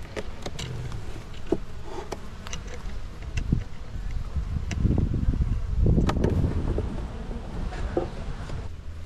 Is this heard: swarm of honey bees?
yes